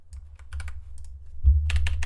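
Quick bursts of computer keyboard typing, close and crisp, come in short clusters of keystrokes over a low steady hum, with no voices.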